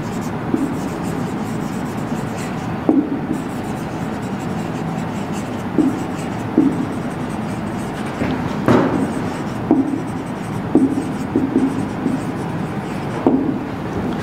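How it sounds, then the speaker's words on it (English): Pen or pencil writing a sentence by hand on paper, a soft scratchy rubbing with small taps at stroke ends, close and steady with a faint room hum underneath, no talking. "Write this sentence."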